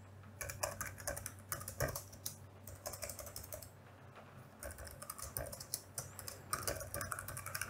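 Rapid, uneven typing on a computer keyboard, close by and continuous, with dense clusters of key clicks and brief pauses, over a low steady hum with no talking.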